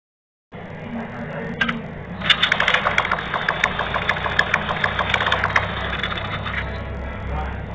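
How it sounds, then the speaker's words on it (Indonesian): A Honda Supra motorcycle engine starts and runs close by after CDI wiring work, with a steady idle and a rapid, uneven knocking or ticking rhythm over the engine hum. "Motornya sudah hidup ya"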